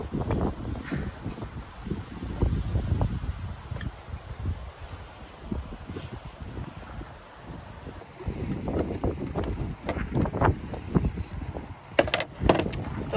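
Wind buffets the microphone on a beach at Padre Island National Seashore, gusty low rumbling that rises and falls throughout with faint rustling, and no voices heard.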